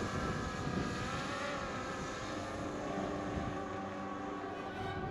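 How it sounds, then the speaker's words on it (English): A distant aircraft drones steadily overhead above a canyon, one continuous broad hum with no speech, heard while a small drone is flown nearby. "And I hear an aircraft off in the distance."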